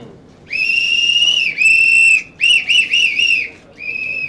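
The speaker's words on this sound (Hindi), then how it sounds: "शुरुआत तो सीटी बजा के होनी चाहिए" A whistle is blown at the start of a press conference, sounding as several loud, shrill blasts in a row, one long, then a few shorter clipped ones and a final held note, with no talk over it.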